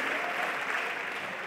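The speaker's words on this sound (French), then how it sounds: "applaudir, applaudir, applaudir, applaudir" Steady, dense applause from an audience at a comedy show in Africa, a continuous wash of many hands clapping at once, loud and even throughout.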